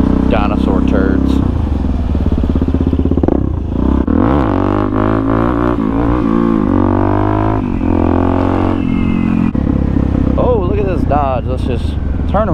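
A Suzuki DRZ400SM motorcycle engine drones steadily while riding, shifting pitch as it revs up and down, close and loud beneath someone talking almost throughout.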